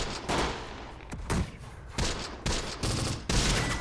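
Anti-tank gun fire against a Panzer III in the Close Combat war game, a series of sharp, loud blasts spaced irregularly across the stretch, each followed by a brief noisy decay, with no voices.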